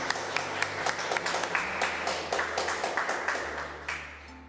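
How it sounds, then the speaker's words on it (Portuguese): A church congregation claps during worship, with distinct rhythmic claps over a sustained musical drone and a wash of softer clapping around them. "vamos aplaudir ao Senhor"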